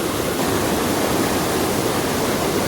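A river in Northern Ireland rushes steadily over a weir, a dense, constant roar of churning water heard close and loud with no voices.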